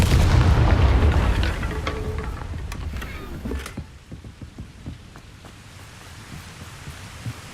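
A Confringo blasting spell in Hogwarts Legacy goes off with a loud, deep boom and rumbling blast, then fades into lighter crackling debris and scattered ambient game sounds.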